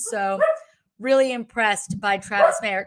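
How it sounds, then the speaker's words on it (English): A pet dog barks and yips behind someone talking in a home setting, the sharp barks overlapping his voice in quick bursts. "Do you hear him barking behind me?"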